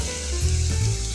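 Potatoes frying in a pan while pork caldereta is being cooked, a steady close sizzle and crackle of hot oil with no talk.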